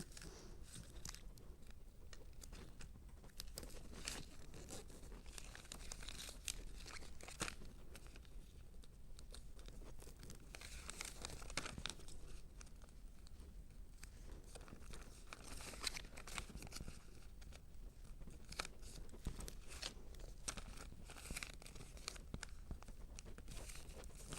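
Paper is folded around a cylindrical bottle, giving faint, close crinkling and rustling with soft creases and scrapes repeating throughout.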